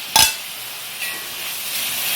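Onion and green chili hit a hot pan for a mussel roast, giving a sharp burst of sizzle as they drop in, then a steady, fainter hiss of sautéing close by.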